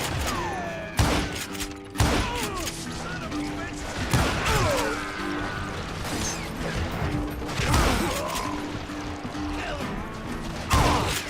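Gun reloading in the Western shooter game Call of Juarez: Gunslinger, with clicking, clacking mechanical handling and metallic rattles mixed with game sounds and occasional shots, under talk from players throughout.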